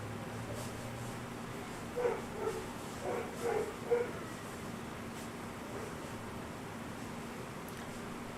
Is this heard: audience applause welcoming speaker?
no